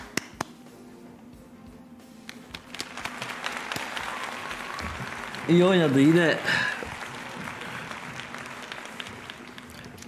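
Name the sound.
standing applause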